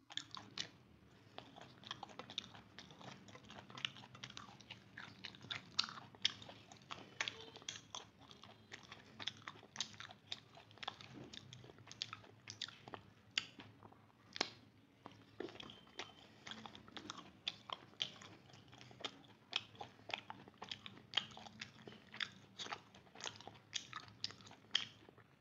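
Someone eats rice-flour roti with nolen gur date palm jaggery: close, soft chewing with frequent small crunchy bites in an irregular rhythm, quiet and without talk.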